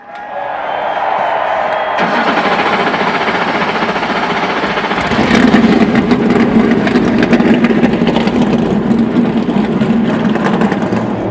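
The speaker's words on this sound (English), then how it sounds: "Drivers, start your engines." Multiple NASCAR Cup Series race car engines fire up at the All-Star Race and rumble loudly, a roaring, layered idle building in intensity with crowd noise underneath.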